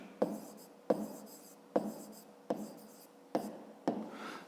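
Pen writing out a fifth-grade maths solution on paper, heard as six sharp strokes at a steady rhythm, each followed by a soft scratching trail, close and quiet with no talk.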